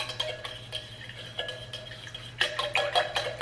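Ice clinks and rattles in a cup as an electrolyte drink mix is stirred, giving a run of light, close, irregular taps that grow busier and louder toward the end, over a low steady hum.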